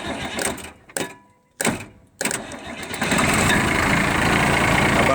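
Navistar S1700 truck engine cranks in a few bursts, then catches and settles into a steady, loud running drone for the last couple of seconds.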